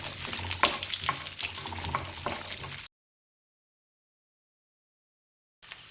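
Onions with garlic and dried chillies sizzle and fry in oil in a pan for about three seconds while being stirred, then the sound cuts to silence before briefly returning.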